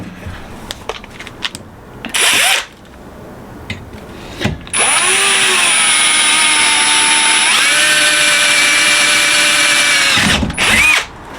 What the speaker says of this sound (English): all this metal here is now going to be drilled